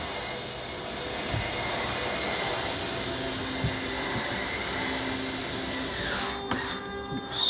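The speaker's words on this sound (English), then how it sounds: "That track right there, there's an electric motor on it that basically pulls it in and out." An electric motor drives the slide-out of a 2021 Hemisphere 378FL loft fifth wheel RV along its track, giving a steady continuous whine and hum that runs throughout, ending with a few brief clunks.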